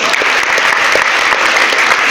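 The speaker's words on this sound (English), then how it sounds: "If you know you're happy to be here, please clap for yourself." Dense, loud applause from an audience of new students at an ESUT orientation address fills the space evenly, a steady wash of many hands clapping together for a couple of seconds, with no voices heard.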